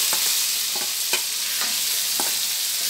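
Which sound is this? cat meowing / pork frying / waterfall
pork frying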